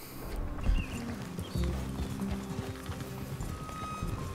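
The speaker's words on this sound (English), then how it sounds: "I'm gonna cross the river with my horse." Horse hooves clip-clop steadily in Red Dead Redemption 2 as a rider crosses a river, with irregular thuds and splashy low rumbles under a busy game soundscape.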